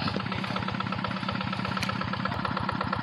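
A hand tractor engine runs steadily close by as the machine climbs onto a rice-field dike, its rapid, even chugging pulse continuing without a break.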